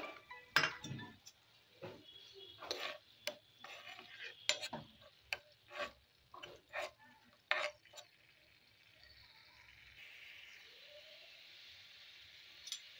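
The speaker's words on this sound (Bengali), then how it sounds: "এই মশলাটাকে আমি 2 মিনিট মতো কষিয়ে নিলাম।" Spice paste sautés in a pan with a series of sharp clinks and scrapes as a spoon stirs against the metal, quiet and close, then fades into a soft, faint sizzle.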